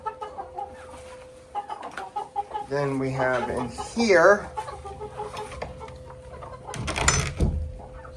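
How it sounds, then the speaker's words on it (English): Chickens cluck and chatter in short bursts, fairly close, inside a homestead laying coop, while a person speaks briefly over them amid some rustling and a sharp noise near the end. "We have a couple of chickens in here."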